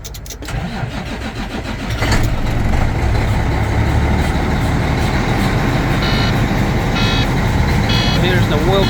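A Cummins ISX 400 diesel in a 2006 Volvo VNL truck cranks briefly, then catches and settles into a loud, steady rumbling run, close up, with someone talking over it.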